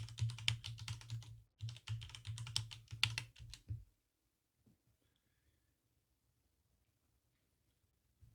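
Rapid computer keyboard typing in two bursts across the first four seconds, close and clear with a short pause between them, then near silence.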